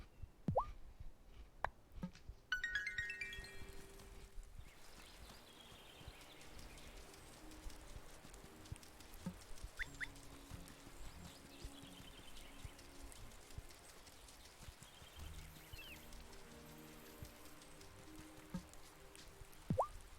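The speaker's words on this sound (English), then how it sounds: "you're never too far from the shore to take in the sound of rain on the ocean" Rain falling on the ocean along an island shore in the Wylde Flowers video game, a soft steady patter of drops and plops under gentle ambient music, quiet and continuous with no talking.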